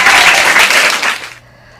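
Applause and clapping for school sports on a school news show, loud and steady for over a second before cutting off abruptly into near silence.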